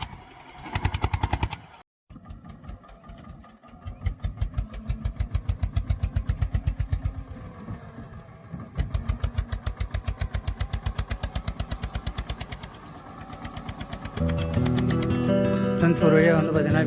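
Motorbike engine straining and sputtering in damp weather, a loud uneven pulsing chug that cuts out briefly near the start and mid-way, then revs up to a steadier, harsher roar toward the end.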